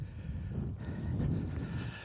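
Strong wind roars steadily against the microphone, a low rumbling rush that fills the whole stretch, at the Pikestones Neolithic burial chamber site in northwest England.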